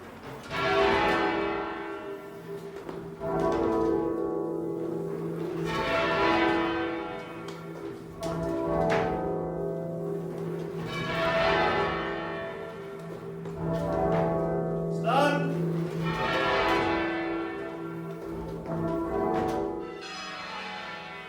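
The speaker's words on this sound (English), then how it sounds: "the sound of bells and their overtones and the partials that you get when they strike" Large church bells toll repeatedly with a deep, sustained hum of overtones ringing beneath each strike, loud and reverberant, no voices.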